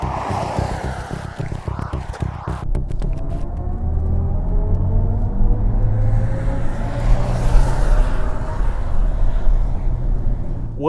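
An electric BMW i7 sedan drives along a road, giving a steady low rumble of tyre and road noise with a faint rising motor whine, continuous and close, with no talk.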